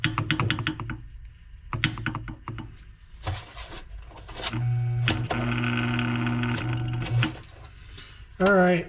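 An old box fan motor, freshly oiled and running with the blade off, gives a steady mechanical hum with a whining tone for a few seconds, after earlier clicks and handling noises and a brief voice.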